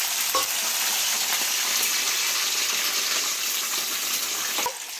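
Green chilies fry in hot oil with chana dal, giving a loud, steady, dense sizzle that runs throughout and ends with a brief knock and a drop in level.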